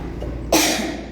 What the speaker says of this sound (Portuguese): Fico tossindo o tempo inteiro